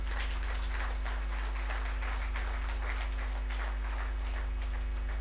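An audience applauding in a church hall, a steady, moderately loud wash of many hands clapping together under a constant low electrical hum, with no voices over it.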